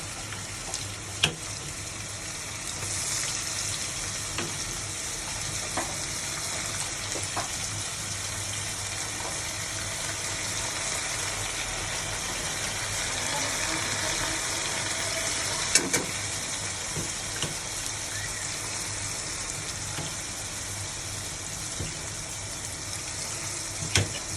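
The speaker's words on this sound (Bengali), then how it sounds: "পেঁয়াজটা একটু ভাজা ভাজা হয়ে গেছে, এবার দিয়ে দেব মশলা" Onions fry in a pan as spice powders are added, a continuous close sizzle with occasional scraping stir clicks running steadily throughout.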